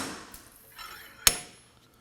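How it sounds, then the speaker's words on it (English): Single sharp metallic clank of a slide hammer pulling the hub away from the knuckle on a 2016-2020 Kia Sorento 2.4L rear axle, close and brief against a quiet shop background. "we're gonna go ahead and use a slide hammer, and we're gonna be pulling on the hub away from the knuckle."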